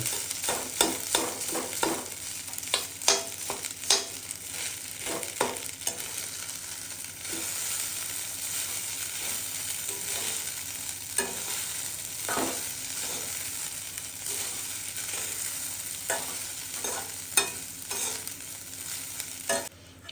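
Garlic fries in oil in a pan for garlic rice, crackling under a continuous sizzle while a spoon stirs it with frequent quick scraping strokes, close and steady throughout.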